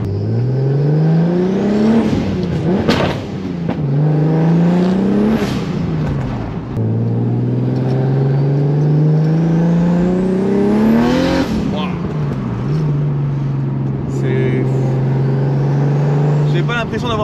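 BMW E36 with a turbocharged engine pulling hard through the gears, each rising engine note climbing then dropping at the shift, loud and close from inside the car, with occupants talking over it.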